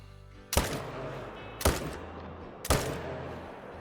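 Three loud, sharp rifle shots sound about a second apart at close range during a mule deer hunt in the game theHunter: Call of the Wild, each one followed by a brief echoing tail.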